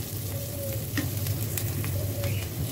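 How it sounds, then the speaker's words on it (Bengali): Onions fry in a pan with a dense, continuous sizzle that stays loud and even throughout, with faint crackles on top. "এখন পেঁয়াজগুলো ভেজে নিচ্ছি"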